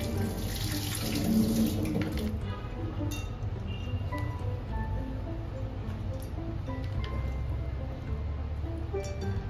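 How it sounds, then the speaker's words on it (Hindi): Water runs and sloshes steadily in a kitchen sink as butter is washed in ice-cold water for making ghee, with a louder burst near the start and a fairly quiet, continuous wash after, no voices. "ये जो आइस क्यूब वाला पानी मैं बना रही, ठंडा पानी, इसी में मैं बटर को अच्छे से वॉश करूँगी"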